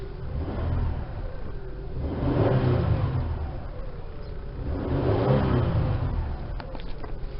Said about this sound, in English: So we're gonna just do a little rev,